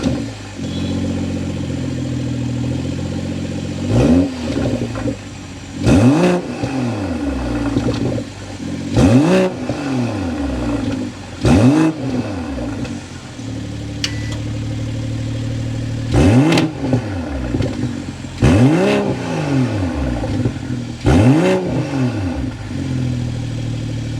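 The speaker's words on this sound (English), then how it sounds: "Let's start it up so you can hear that exhaust note." A 2023 BMW M440i convertible's engine starts and settles into an idle, then is revved repeatedly, with about eight throaty rising-and-falling exhaust blips spaced a few seconds apart over a steady rumble, loud and close with no talking.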